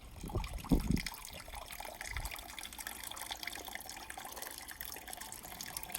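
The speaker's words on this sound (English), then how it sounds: "This is gonna sparge for a while." During a beer brew-day sparge, wort drains from the grain bed as a faint, continuous trickle of liquid. A soft splash comes near the start, and no one speaks.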